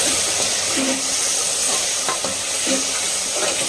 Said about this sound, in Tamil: ஸோ இப்போ வந்து மிக்ஸ் கொடுத்துக்கலாம்.